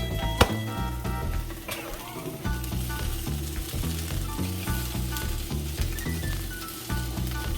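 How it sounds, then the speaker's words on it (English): Onions frying and sizzling in a pan while they are stirred, with scraping and clattering stir strokes over a steady fry and no talking. "When you're going to stir these onions"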